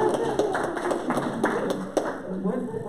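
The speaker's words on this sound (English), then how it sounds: "so we give you a round of applause" A round of applause at an annual general meeting, steady clapping from a gathered audience running throughout with voices talking over it.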